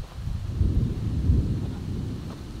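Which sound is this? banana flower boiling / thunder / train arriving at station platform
thunder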